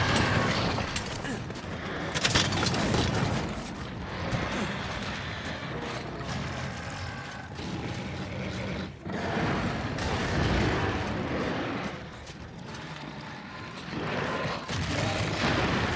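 Cannons firing in Monster Hunter World, with dense booming blasts and mechanical clatter filling the whole stretch, loud and continuous, with some speech mixed in.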